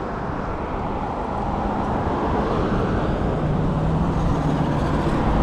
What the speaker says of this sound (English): Boy, it's a lot of traffic.